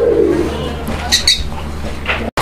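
Pigeons offered for sale coo with a low rolling murmur at the start, then a few faint chirps and brief higher calls follow over a steady background hum.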